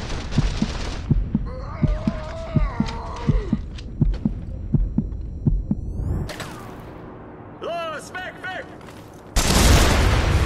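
A loud, broadband explosion from blowing something up in The Saboteur video game bursts near the end, following a stretch of rhythmic low thuds, game sounds and a talking voice.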